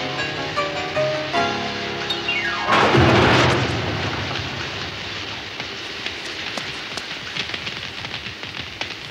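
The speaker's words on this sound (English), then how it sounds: "Rain." Rain falls as a dense, even hiss of drops on surfaces, following a brief burst of tonal sound and a loud swell, then continuing steadily to the end without talk.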